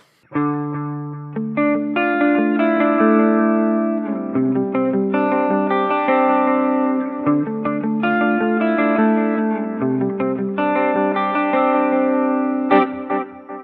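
Clean electric guitar through a Mooer Prime P2 playing a melodic line, with analog-style delay repeats trailing each note and a roomy reverb tail, loud and up close.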